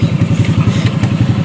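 A Honda Click motorcycle engine runs close and loud, a steady rapid chugging pulse with slight clatter, alone for a brief moment.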